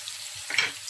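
Onions fry in hot oil for Nigerian jollof rice, a steady soft sizzle with a brief louder burst of stirring near the end, close and alone.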